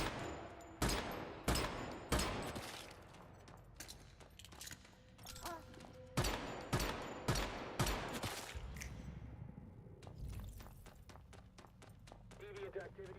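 Pistol gunfire in the Once Human game, a dozen or so sharp, loud shots spaced about a second apart, then a quicker flurry of lighter cracks near the end, amid background game ambience with some talk.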